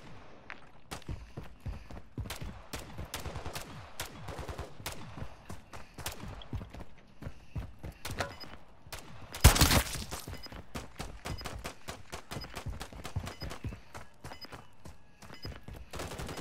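Call of Duty MW3 gunfire comes in dense irregular bursts of sharp shots, some rapid automatic fire and single cracks, with a louder blast near the middle, continuing throughout.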